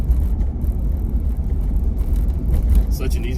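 A Jeep Cherokee drives along with a steady low rumble of engine and road noise heard from inside, running smoothly through its gear shifts while a person talks over it.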